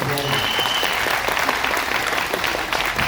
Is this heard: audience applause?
yes